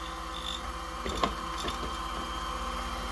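A Silca Flash key cutting machine whirs quietly and steadily as it cuts a key, a low mechanical hum with faint rhythmic clicks and a few small scraping bursts.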